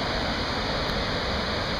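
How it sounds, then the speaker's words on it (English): Swallow Falls waterfall in Maryland pours in a steady, dense rush of white noise, loud and close, unbroken for the whole moment with nothing else heard. "Now let's go get a better look at this waterfall."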